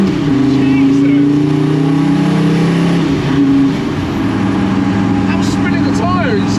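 A 400bhp diesel Commer pickup revs hard, its engine droning and shifting in pitch as a tyre spins in second gear, loud and close, with voices talking over it.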